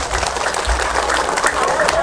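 A crowd at a political rally applauds in a short, loud, continuous burst of many hands clapping, with low rumble and crowd noise underneath.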